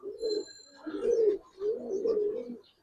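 Coloured Giribaz hurricane pigeons coo at a pigeon market: three soft, throaty cooing phrases in quick succession, close and fairly quiet, with faint chirps in the background.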